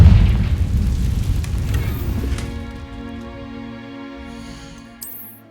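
A Confringo blasting spell erupts in the Hogwarts Legacy video game, opening with a loud, booming explosion that rumbles and slowly decays into a low, fading tail, with a brief sharp pop near the end.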